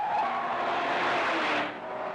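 A standard Mercedes-Benz 1970s sedan is driven all out on the Stelvio mountain pass road, its tires squealing in a loud, sustained skid with rushing engine noise that fades at the end.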